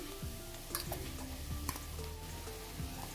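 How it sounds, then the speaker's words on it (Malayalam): Mashed potato and chicken being stirred into spices in a pan, giving soft scraping and clinking spoon strokes over a faint, steady sizzle, with no voices. "എല്ലാം കൂടി ചേർത്തിട്ട് നല്ലപോലെ മിക്സ് ചെയ്ത് കൊടുക്കാം"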